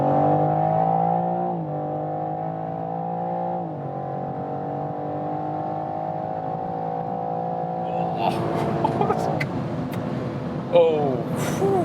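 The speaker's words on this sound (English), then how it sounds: "And one more time, we're gonna accelerate." A sports coupé, a BMW M4 or Audi RS5, accelerates hard from inside the cabin, its engine note climbing steadily through gears with brief dips at shifts, loud and continuous, with a voice exclaiming near the end.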